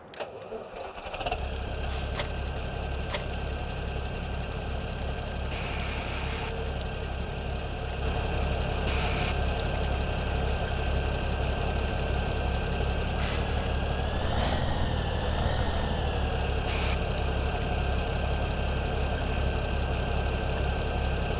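A Case IH tractor engine idles steadily in Farming Simulator 17, a constant loud drone with a slight pitch swell partway through, running alone for about twenty seconds.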